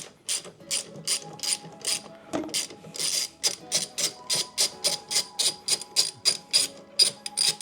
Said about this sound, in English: It is a 3/8 ratchet.